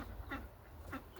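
Two short quacks from teal ducks, spaced about half a second apart, fairly faint over a low background rumble.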